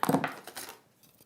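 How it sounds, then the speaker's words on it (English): Blunt scissors snip through fabric in a few quick, close, crisp cuts that fade into quiet within about a second. "Oh, these scissors are blunt as a badger's"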